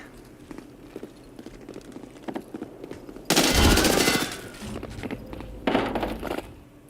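Gunfire in the video game Escape from Tarkov, with a loud sustained burst of rapid shots in the middle and a shorter burst near the end, over steady in-game footsteps and ambient rustle.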